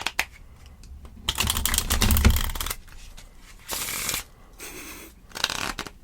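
A deck of playing cards is shuffled in several separate bursts of rapid riffling and flicking, close and crisp, with quiet pauses between them and no talking.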